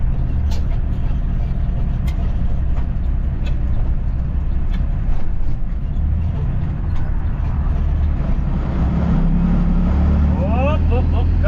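A semi truck's diesel engine labours and bogs down under load, a loud steady low rumble that drones on continuously with no clear change in pitch.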